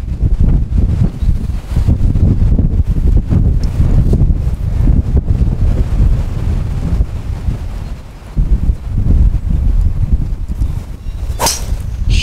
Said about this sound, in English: Yeah, it's very windy.